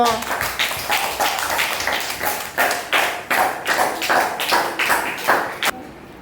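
Children clap for the winner of a word-search game at a Gujarati primary school, a run of bright, close hand claps in an uneven rhythm that stops abruptly near the end, with a voice speaking over them.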